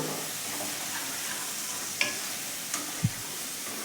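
Spice paste with yogurt sizzles quietly in a pan as it is sautéed, a soft continuous fry with a few small scrapes and a faint knock.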